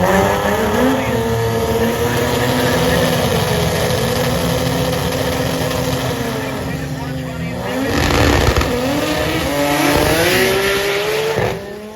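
A drag racing car on 275 radial tires roars loud and close at a drag strip, its engine pitch climbing and shifting over a sustained run as an announcer talks over it.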